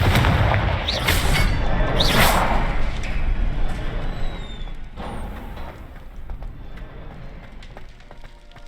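The Confringo explosive spell in Hogwarts Legacy goes off as two loud, close blasts in quick succession, followed by a fading rumble and quieter magical effects.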